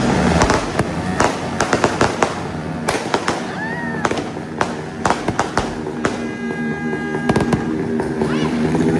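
Firecrackers and fireworks burst repeatedly at New Year, dense sharp cracks and pops arriving at irregular intervals, some close and loud, with a whistling rocket and crackling in between.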